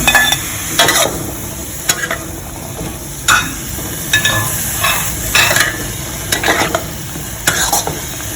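Straw mushrooms and long beans being stir-fried in a pan for a vegetarian basil dish, a steady sizzle broken by repeated scraping stirs of the spatula at an irregular rhythm, close and fairly loud with no talking.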